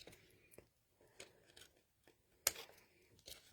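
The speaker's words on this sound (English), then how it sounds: "you're going to end up with this little extra piece in the middle or on top that you just snip off" Scissors snip off a small extra piece of paper after a border punch, a few quiet, crisp cuts spaced apart, with one sharper snip in the middle.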